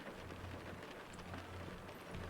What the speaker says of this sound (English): Oh, now I'm getting tired because of these rain noises.